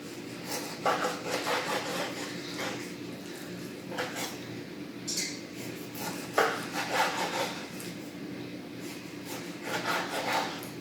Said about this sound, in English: I'm going to try to cut these into some planks that'll give me a more uniform cut.